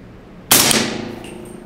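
A Q Honeybadger short-barreled rifle fires a single subsonic round, a sharp close crack that decays quickly into a brief ringing tail, with no talking.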